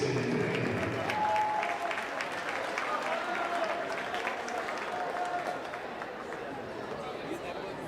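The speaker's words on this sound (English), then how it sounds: "Big round of applause for Casey and Finnegan" Crowd in a high school gym applauds during a boys basketball senior recognition, sustained clapping mixed with cheering, chatter and a squeak or two, gradually easing down over several seconds.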